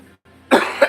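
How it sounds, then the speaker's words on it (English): A single close, sharp cough after a brief breath, loud and abrupt. "I'm still dealing with a cough."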